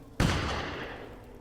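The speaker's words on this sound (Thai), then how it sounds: "เสียงปืน" A single loud gunshot in the video game Resident Evil Village cracks out abruptly, followed by a long, fading reverberant tail; no voices.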